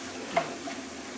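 Chopped onion and vegetables sweating in a pan for stuffed peppers, a soft, quiet sizzle with one brief stirring scrape, heard alone without speech.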